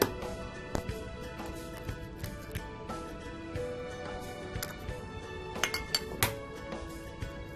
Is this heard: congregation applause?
no